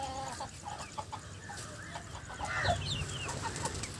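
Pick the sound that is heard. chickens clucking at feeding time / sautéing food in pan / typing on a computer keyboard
chickens clucking at feeding time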